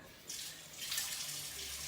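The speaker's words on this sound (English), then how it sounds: "we're gonna grab some water from the faucet" A kitchen faucet turns on and water runs in a steady hissing stream, close and fairly soft, with no voices.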